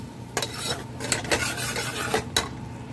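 A spoon stirs masala with salt, chili, turmeric, a clove and cinnamon in a pot, giving several distinct scraping strokes against the metal over a soft sizzle, with nothing spoken.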